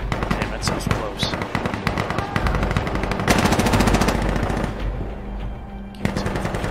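Rapid automatic gunfire in a night-mission video game, dense bursts of close shots with scattered single reports, loud and nearly continuous, with players talking over it.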